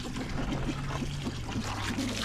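Water pours into a farm animals' water container outdoors, a steady, continuous trickle and splash close by with no talking.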